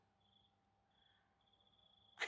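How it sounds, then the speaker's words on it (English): Faint, high-pitched autumn cricket chirping in New Zealand in short trills against a quiet background, ending with a brief burst of noise. "there's been a lot of crickets."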